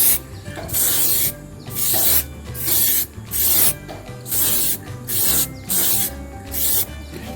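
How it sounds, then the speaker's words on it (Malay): A can of clear coat sprays a dull, yellowed car headlight in a series of steady hissing bursts, each lasting about a second, with short gaps between them, close and loud. "sekarang kita akan spray lapisan yang pertama menggunakan clear spray"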